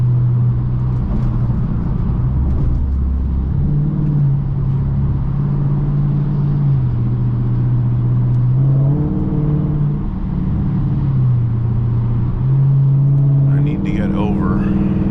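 A Dodge Charger Pursuit police car with a Hemi V8 drives along, its engine droning steadily and rising and falling in pitch as it shifts, under cabin road noise.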